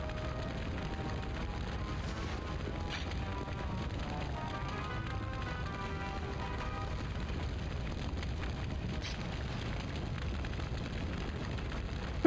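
Fire roars through a burning place in the video game Skies of Arcadia: Legends, a continuous crackling, rumbling blaze with occasional splintering pops, steady and moderately loud.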